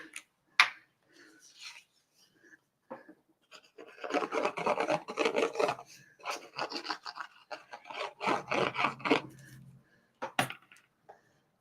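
Glued paper craft pieces for a garden project are pressed and rubbed together, giving close, scratchy rasping bursts that come and go in two longer stretches with small taps between.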